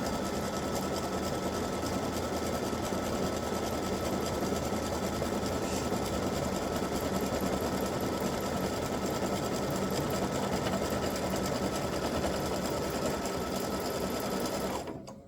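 An embroidery machine stitches a Christmas bow directly onto a T-shirt held on stabilizer, running as a loud, steady mechanical drone throughout before stopping abruptly at the end.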